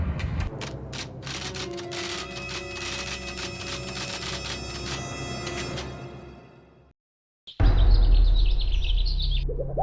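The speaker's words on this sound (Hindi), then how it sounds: "जंगल में चारों तरफ चिड़ियों के चहकने की आवाजें सुनाई दे रही थी।" A dense chorus of birds chirping and tweeting fills the air in a forest, then cuts off abruptly and gives way to a loud rushing noise.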